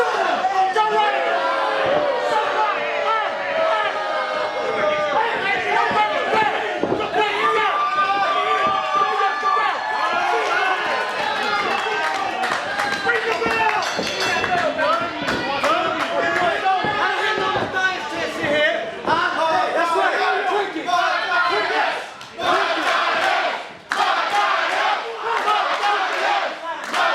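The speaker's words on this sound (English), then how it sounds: "This crowd riled up here at King of the Pride Part 2." A loud, close crowd at a Lions Pride Sports wrestling event yells, cheers and chants almost without pause, with individual shouts cutting through the roar.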